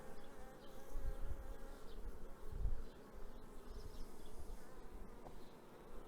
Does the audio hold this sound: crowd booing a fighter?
no